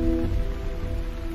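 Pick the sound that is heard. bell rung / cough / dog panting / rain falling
rain falling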